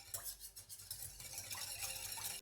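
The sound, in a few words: whisking roasted garlic into dressing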